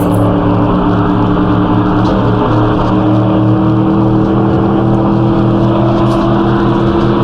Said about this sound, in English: Come on, Tatra, V8, 170 horsepower.